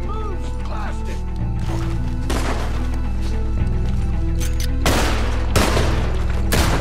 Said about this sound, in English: Can hardly see what I'm shooting at.